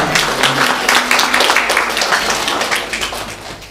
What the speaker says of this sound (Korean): 주님께 영광의 박수를 올려드리고 어떤 분들에게 감사의 박수로 인정하겠습니다.